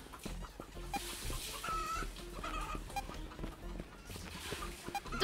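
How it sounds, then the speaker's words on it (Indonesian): Chicken clucking in a video game's bomb mode, short repeated clucks and squawks mixed with game effects and background noise, moderately faint. "Itu ayam apaan nih?"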